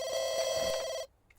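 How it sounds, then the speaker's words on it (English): A telephone rings in The Sims 2 life-simulation game: one bright, steady electronic trill lasting about a second, then cutting off abruptly into quiet. "we've got a phone call."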